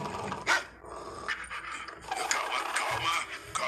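Dalmatian puppies panting and making small growly huffs up close, with soft whines and snuffling over a busy background.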